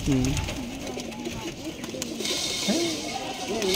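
Pigeons in a loft coo repeatedly in soft rolling calls, close and fairly loud, overlapping one another against a busy background with a faint hiss.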